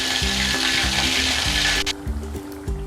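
Prawns frying in oil over low heat, a continuous close sizzle with a faint rhythmic background hum and a few soft bumps near the end.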